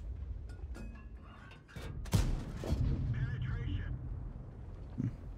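Tank cannon fire in World of Tanks, a sharp booming shot followed by rumbling impact noise and metallic battle effects, heard under a player's excited commentary.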